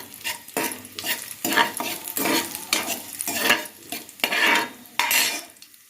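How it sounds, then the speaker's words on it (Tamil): Cashews and raisins roast in ghee inside a pressure cooker, a close sizzle broken by repeated rhythmic stirring strokes, about seven scraping bursts, with no speech. "முந்திரி நல்லா வறுத்து எடுத்துட்டேன்"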